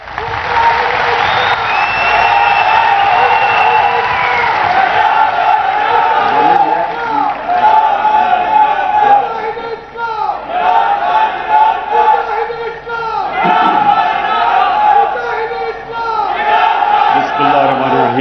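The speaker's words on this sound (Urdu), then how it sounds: "ان کے لیے بھرپور تالیاں" A large audience at a national conference in Islamabad breaks into sustained applause mixed with cheers and shouts, loud and dense throughout, with a voice over a loudspeaker partly heard above the crowd.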